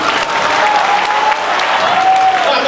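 Steady, loud applause fills a school's 30th-anniversary alumni banquet, continuous clapping from a large seated crowd that barely varies in level throughout.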